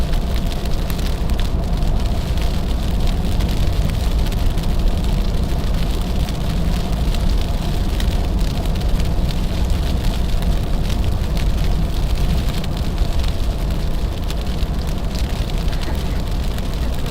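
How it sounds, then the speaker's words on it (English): Sleet falls steadily through a New York winter storm, a dense, continuous hiss and patter that stays even and loud for the whole stretch, with a low rumble underneath and no clear voices. "Listen to this sleet, chat."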